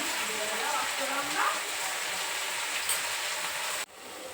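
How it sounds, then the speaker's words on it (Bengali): Amaranth greens frying with garlic, onion and dried chili give a steady, broadband sizzle and hiss that stays even, with a faint voice under it and an abrupt drop near the end. "তো তো এই রসুন পেঁয়াজ শুকনো লঙ্কা ফোড়ন দিয়ে আর কি নোটে শাক ভাজছি।"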